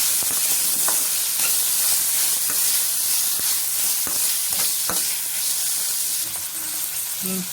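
Indian borage, coriander and curry leaves sizzling and frying in a pan as they are stirred, a steady close hiss with occasional scrape and clatter of the spoon, no talking.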